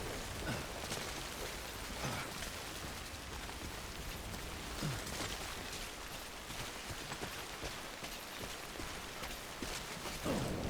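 Steady rain falling on a rocky hillside, a constant near hiss of drops with occasional louder patters and faint low rumbles throughout, no voices.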